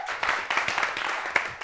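Audience applause at a live variety show, a broken patter of claps with a few sharper peaks and some voices mixed in, fairly close and steady for under two seconds.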